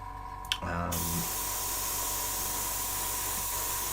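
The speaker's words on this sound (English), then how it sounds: "This is a lot finer spray." Fine paint mist hissing from a sprayer in a paint-spraying game, a steady close airy hiss that starts after a short click and runs evenly for several seconds.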